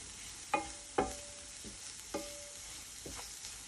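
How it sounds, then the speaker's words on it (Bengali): A spiced chicken mixture with paprika fries on low heat in a pan while a spoon stirs it, a soft steady sizzle broken by a few sharp scraping clinks of utensil against pan. "একটু ভালো করে ভেজে নিতে হবে"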